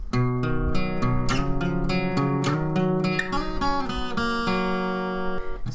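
Acoustic guitar plays the opening part of a song, steady picked and strummed notes ringing clearly up close, with no talking over it.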